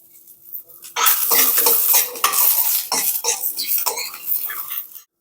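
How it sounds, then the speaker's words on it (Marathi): Onion and garlic stirred and roasted in a pan with cumin and coriander for a Maharashtrian drumstick curry, a steady sizzle with spoon scraping and stirring clatter close up, alone after a quiet first second. "हलका हलका कांदा आणि लसूण भाजून घेतलेला आहे"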